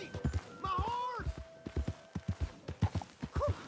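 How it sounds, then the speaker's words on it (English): Horse hooves clip-clop at a walking pace in a video game, a steady run of close, evenly spaced hollow knocks. A voice talks over the start. "Hey! My horse!"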